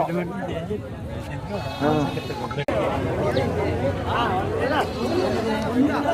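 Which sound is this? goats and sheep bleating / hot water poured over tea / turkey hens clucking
goats and sheep bleating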